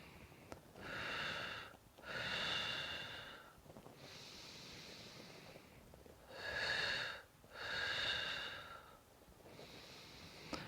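Slow, deep breaths during a Pilates twist, heard close and alone: several long breathy inhales and exhales, a few louder and rougher, separated by short quiet pauses.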